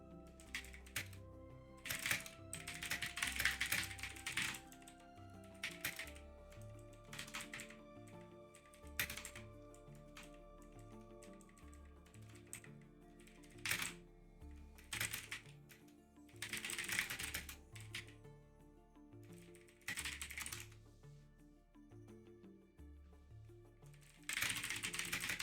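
Quiet keyboard typing in scattered bursts of rapid clicks, with pauses between runs and faint background sound underneath.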